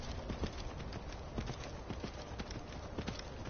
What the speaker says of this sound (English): He's a really cool looking horse.